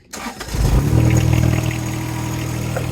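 A John Deere compact tractor's diesel engine, fitted with a HydrosPlus Turbo+ turbo kit, cranks briefly, catches with a loud surge and settles into a steady close idle.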